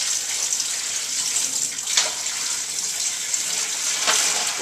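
Old filtered water from a tadpole tank pours out in a continuous splashing gush, loud and close, with a couple of brief surges along the way.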